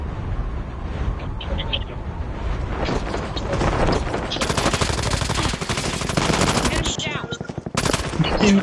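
Gunfire in an online battle royale video game: dense, loud bursts of rapid machine-gun fire and single shots, building into sustained fusillades, with excited players talking over it.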